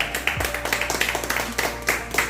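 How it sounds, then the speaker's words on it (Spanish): A church congregation at a Christian baptism service clapping in a steady, fairly quick rhythm, moderately faint and slightly distant, with individual claps clearly separated. "den un fuerte aplauso a Jesucristo"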